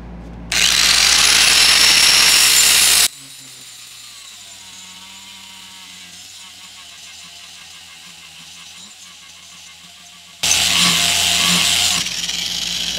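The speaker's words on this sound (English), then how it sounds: "we're going to start sharpening these 3 blades" A power tool sharpening Cub Cadet 1450 mower blades, loud harsh grinding in two bursts at the start and end, separated by a quieter stretch of low mechanical noise.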